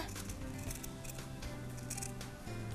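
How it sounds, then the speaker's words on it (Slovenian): Large scissors cut through leather, a fairly stiff material, while a leather sunglasses case is crafted by hand; soft, steady snipping sits under a continuous low background hum. "zato ker malce bolje kot tele otroške škarje režejo usnje, ki je malo trši material"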